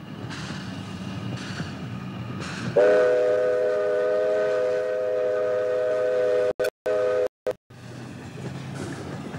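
A steam locomotive on the Pichi Richi Railway sounds a long, loud whistle for several seconds over rumbling chuffs and rolling wagons, then briefly cuts out before the train noise resumes.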